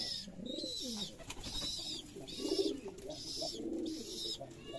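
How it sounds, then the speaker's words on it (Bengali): Rajshahi Giribaz pigeons cooing repeatedly inside a coop, with low rolling coos rising and falling in overlapping bursts near the listener against steady background noise. "এটা আমার রাজশাহী গিরিবাজ কবুতর, দেখেন অনেক ডাকাডাকি করে।"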